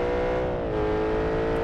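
Engine of a BMW car in BeamNG.drive revving and accelerating hard, a loud steady harmonic whine that dips briefly and then holds, heard alone without talk.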